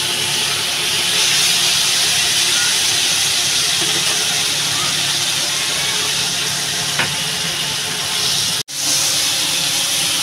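Rohu fish and potato curry fries with chili powder in a pan, giving off a loud, steady sizzle and hiss that continues unbroken except for a brief cut near the end.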